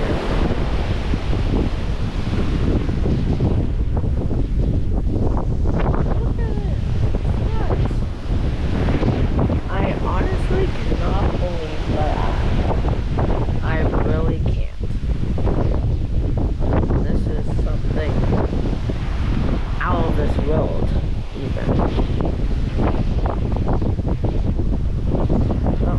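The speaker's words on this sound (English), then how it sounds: "I needed to come out here and show you these waves. They are absolutely insane." Heavy wind buffets the microphone over rolling ocean waves off the deck of the Royal Caribbean cruise ship Harmony of the Seas, a constant loud roar with surging wash throughout and faint voices beneath.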